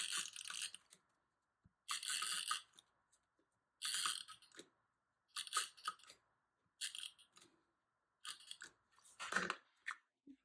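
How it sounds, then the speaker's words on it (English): Double-sided tape being worked onto junk journal pages gives a series of crisp, separate tearing and crackling bursts about a second apart, close and clear against near silence. "we're going to go ahead and use double-sided tape."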